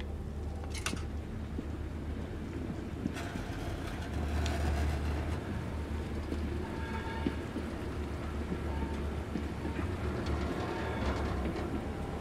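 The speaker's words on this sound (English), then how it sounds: "I'm going on a train ride." In the Blair Witch game, a train ride makes a steady low rumble of rolling rail cars. Occasional metallic clanks and rattles sit over the moderate, continuous drone, with no voices.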